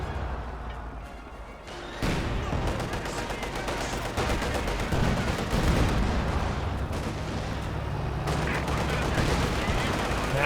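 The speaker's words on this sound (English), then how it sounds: "Maxim firing away." Maxim machine gun firing in Company of Heroes 2 amid a wider battle, a loud sustained clatter of rapid fire and explosions that starts abruptly and runs without letup, with a voice talking over it.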